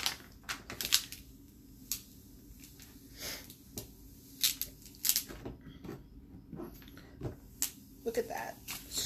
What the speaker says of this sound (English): And take our tape off.